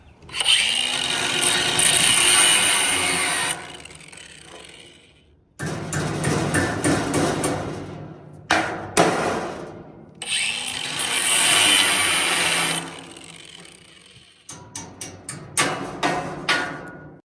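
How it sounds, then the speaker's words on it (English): A hammer strikes and snaps off old screws on a trailer being rebuilt, heard as bursts of sharp metallic banging and clattering with ringing hits, separated by short pauses. "take the hammer and snap them off"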